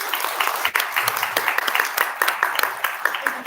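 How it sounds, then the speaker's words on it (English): Audience applause for a panel at a results launch event, a dense, steady wash of many hands clapping close by for about three seconds with no talk over it. "Can we just do one clap for our panel,"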